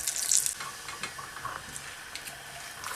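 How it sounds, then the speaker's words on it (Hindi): An aloo palak paratha fries in plenty of ghee on a tawa, giving a soft, steady sizzle with light scraping and a brighter burst of crackle at the start, heard without talk. "पराठे को तो ज़्यादा घी में तलें तो फिर ही अच्छा लगता है।"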